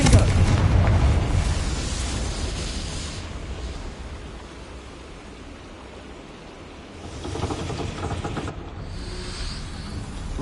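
A Confringo blasting spell goes off in Hogwarts Legacy, a loud booming explosion at the start that fades into a low rumble, followed later by a second, quieter burst of blast noise.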